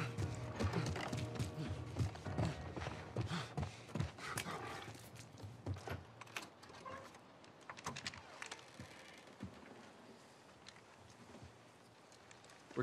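Steady clip-clop of horse hooves with occasional whinnies and a busy game-like soundscape from The Last of Us, fairly loud throughout.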